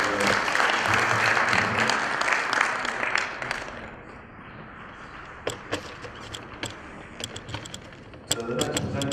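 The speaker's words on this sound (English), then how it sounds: "So, round of applause for Richard." A conference audience applauds a presenter with dense clapping that thins out halfway through into a few scattered, sharp individual claps.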